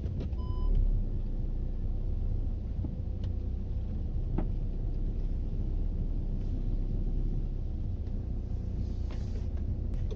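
Steady low rumble of car traffic on a street on a quiet Sunday, a continuous broadband drone with a few faint brief tones and no speech.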